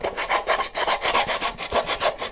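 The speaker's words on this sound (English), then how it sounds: "And I'm going to take sandpaper and just work around the outside." Sandpaper rubs back and forth by hand around the outside edge of an engine block, a close rhythmic rasping with about a dozen quick, even strokes and no voices.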